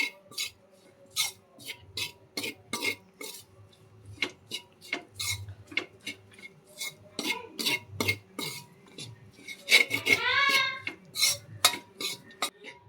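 A spoon scrapes and clanks against a metal pan while stirring chilli-powder masala, in repeated, rhythmic strokes, close up, with a brief busier clatter near the end and no talk.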